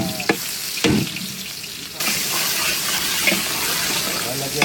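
Onions sautéing in a pan of oil while cooking pinakbet with squash, a steady close sizzle and hiss with a few sharp clatters of stirring, running continuously and growing fuller partway through.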